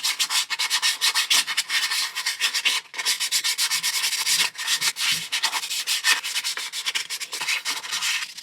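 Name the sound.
sanding differential locker part after removing paint flakes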